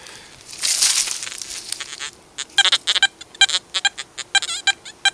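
An XP Deus metal detector sounds on a small gold florin coin in naturally mineralised ground: a hiss and scrape first, then a run of sharp, high beeps in quick, uneven bursts.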